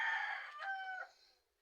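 A single rooster crows nearby, one short, fairly faint call that rises, holds and fades away on its own.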